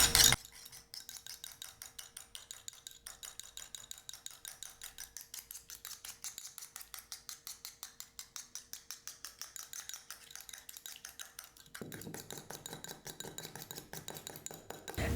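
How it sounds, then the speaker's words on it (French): Rapid, steady whisking of egg white in a bowl, a dense rhythmic clatter of metal strokes that runs for most of the stretch, close and fairly quiet, ending with a brief change in tone near the end. "On va fouetter."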